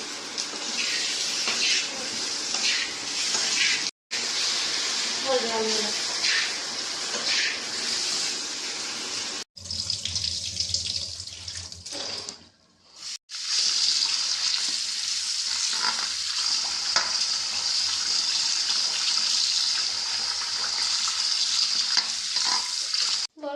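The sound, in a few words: potatoes frying in a pan for biryani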